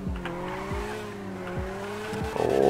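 A drifting car in GTA 5 FiveM screeches its tires through a slide, with engine revs rising and falling in repeated sweeps under a steady squeal, loud and close.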